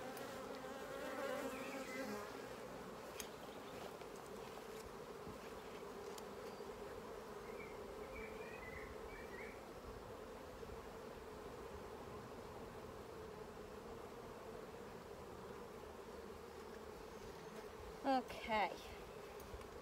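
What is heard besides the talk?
honeybees buzzing around honeycombs during beehive inspection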